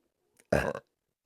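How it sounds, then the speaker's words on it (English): A single short, loud burp bursts out of near silence, preceded by a faint breath, then stops abruptly. "Burp confirmation"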